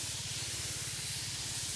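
A motorized power sprayer runs in a garden while spraying bean plants, with a continuous loud hiss of spray over a rapid, pulsing pump engine throb.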